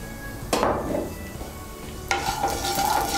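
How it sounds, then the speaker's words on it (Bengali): One dried red chilli and half a teaspoon of black cumin seeds hit hot oil for a tempering. Two sharp, loud bursts of sizzling flare up, each easing into a softer crackle. "এর মধ্যে আমি 1টা শুকনো লঙ্কা আর হাফ ছোট চামচ কালো জিরে ফোড়ন দিচ্ছি"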